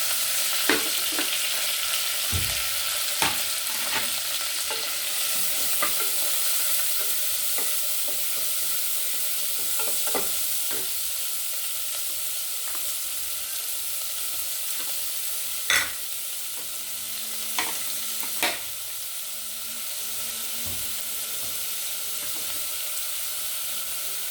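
Curry leaves sizzling in hot oil in a pan for a bottle gourd gravy, a steady bright frying hiss throughout with scattered sharp pops and crackles, close and alone with no talking.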